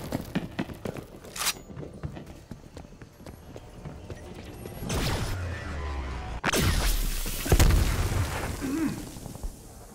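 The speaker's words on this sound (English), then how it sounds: "Throwing flashbang." A flashbang grenade going off in Call of Duty: Black Ops Cold War, free-for-all match: a sharp loud bang after scattered footsteps and gunfire, followed by a lingering ringing wash and a second burst.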